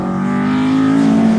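Alfa Romeo Giulia GTAm race car engine running hard at Balocco, a loud sustained buzzing drone with a slight rise in pitch, close and alone.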